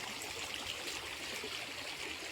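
The Mandakini river stream flows steadily along its bank in the Anasuya forest of Chitrakoot, a continuous soft rushing and trickling of water, moderately distant and even, with no voices.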